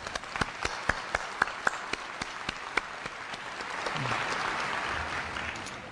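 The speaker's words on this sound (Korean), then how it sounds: "부모님을 위해서 박수 한번 보내드릴까요?" A crowd applauds steadily at a Korea University freshman entrance ceremony, with many overlapping claps forming a dense wash and some sharper individual claps standing out near the start.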